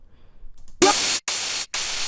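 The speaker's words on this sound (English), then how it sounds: "it's just some white noise with delay on it" Three bursts of harsh white noise hiss in quick succession, each cutting off sharply as though repeated by an echo.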